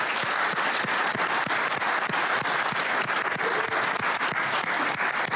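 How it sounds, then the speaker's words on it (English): A conference audience gives a sustained, dense round of applause for the event organizers at an application security gathering, steady and loud throughout with many hands clapping at once and no talk over it. "big round of applause"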